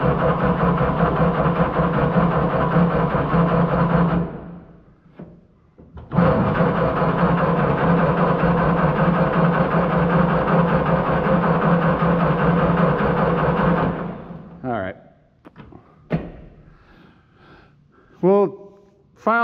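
An old small gasoline engine, flooded and struggling on old gas, runs steadily loud and near, cuts out briefly, catches again, then sputters and dies into scattered knocks and clanks.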